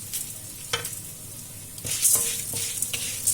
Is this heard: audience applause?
no